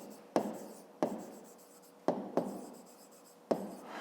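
A pen writing numbers in an exercise book during a fifth-grade maths exercise, heard up close as a few sharp strokes and taps with short scratchy tails, alone without talk.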